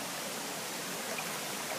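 Ankle-deep floodwater pours across the end of a road where a nearby creek has overflowed, a steady, dense rushing wash with no break and no voices.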